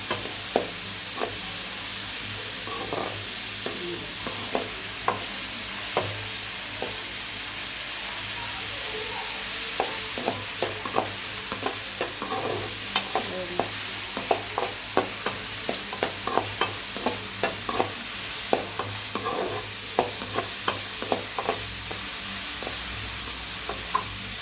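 Onions sautéing in oil in a pan, a steady close frying sizzle broken by frequent sharp scrapes and clicks of a spatula stirring throughout.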